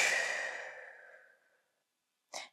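A single long, deep exhale during a dynamic hip stretch, loud and close at first and gradually fading over about a second and a half, followed by silence and the start of a short inhale.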